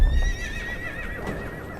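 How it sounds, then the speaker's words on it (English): A horse pulling a rickshaw whinnies in a long wavering neigh, fairly close, with some low rumbling and a faint hoof clop underneath. "A horse-drawn rickshaw."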